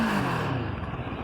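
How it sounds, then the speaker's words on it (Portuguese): A CFMoto 700MT motorcycle in neutral revs briefly, its exhaust note loud and close for about a second before settling into a rough idle. "esta CF Moto tem um som de escape que um gajo até fica maluco"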